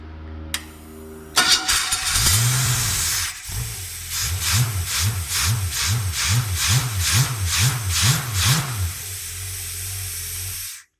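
A primed engine cranks and catches on the first try, starting with a hissing burst, then a run of rhythmic pulsing cycles near and loud for several seconds before cutting off abruptly.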